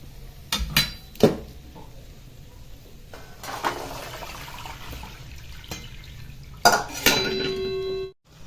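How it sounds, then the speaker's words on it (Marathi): Green peas are drained through a sieve and tipped into a hot tempering in a home kitchen, giving scattered clanks of metal utensils and cookware, brief splashy water noise, and a final clatter before the sound cuts off. "एक चाळण घ्यायचे चाळणीत घालायचे आणि पाणी काढून घ्यायचे आणि वाटाणे त्यात टाकून द्यायचे फोडणीमध्ये"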